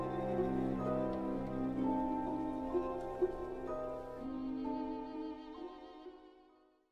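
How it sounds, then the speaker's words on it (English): Harp and celeste play an orchestrated melody from Boulanger's "D'un soir triste", sustained tones with a chiming metallic sparkle over plucked notes, steady and moderately soft before fading out at the end. "The composer has assigned this music to the harp and the celeste."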